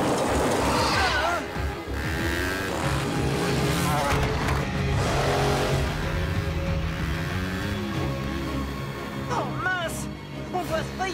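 A cartoon vehicle engine at full throttle roars continuously and loudly during a chase through a rocky passage, with shifting pitch and bursts of revving, while characters' voices cut in over the noise.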